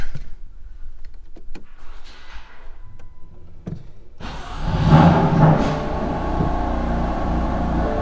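A BMW F80 M3 with its stock exhaust starts up after a few faint clicks and thumps, then settles into a loud, deep, rumbling idle with a slight rise in revs.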